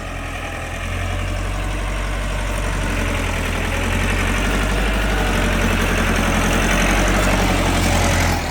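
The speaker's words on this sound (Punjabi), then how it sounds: "ਕੋਲ ਹੀ ਜਨਾਬ ਟਰੈਕਟਰ ਹੈ।" A tractor engine idles at a steady, low, continuous rumble on a farm during potato planting, running close by and unchanging in level with no voices.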